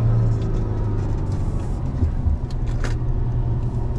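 A VW Amarok 3.0 V6 TDI diesel pickup's engine hums as a steady, close cabin drone with a low rumble, holding fairly even throughout with no voices over it.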